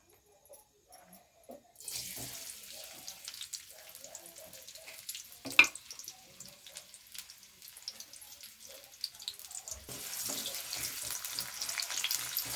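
Onions frying in hot oil until soft and golden brown, heard as a faint, close sizzle with scattered crackles and occasional stirring clatter after a quiet start, growing louder toward the end, with no voices.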